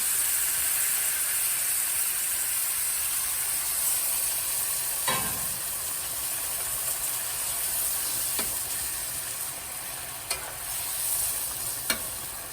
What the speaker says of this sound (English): I'm going to add my broth and finish cooking the seafood.